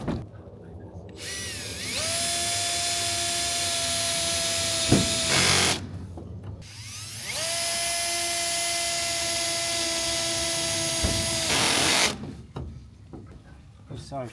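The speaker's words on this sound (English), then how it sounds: "let's drive some screws in." A cordless power drill drives screws into a pizza truck fitting, two long sustained whirring runs each several seconds, rising in pitch as the motor spins up, separated by short pauses with clicks and handling noise.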